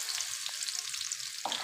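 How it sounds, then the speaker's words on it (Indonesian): Chilies stir-fry in hot oil on a stove, the oil reused from frying liver, potatoes and tempeh, giving a steady close crackling sizzle with a brief stirring scrape near the end. "saya menumis cabenya, bekas minyak yang bekas menggoreng ati, menggoreng kentang, dan juga menggoreng tempenya tadi"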